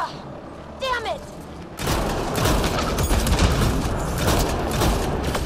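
Gunfire from the sci-fi shooter Mass Effect Andromeda: after a quiet stretch with a brief electronic whine, rapid bursts of weapon fire and impacts erupt and continue loudly to the end.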